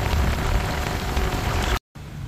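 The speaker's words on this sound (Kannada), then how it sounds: "ಸೊ ತುಂಬ ಮಳೆ ಬಂದಿದೆ" Heavy rain pouring steadily as a dense, loud, continuous roar, with a brief cutout near the end before continuing more faintly.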